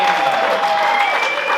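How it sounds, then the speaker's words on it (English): Comedy club audience applauding after a comedian's set, a steady wash of clapping filling the room, fairly loud and close, with a faint tonal whistle running through it. "How about a round of applause for Jay Martin, everybody?"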